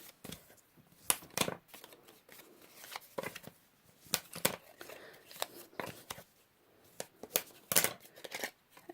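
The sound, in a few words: folding scored paper with a bone folder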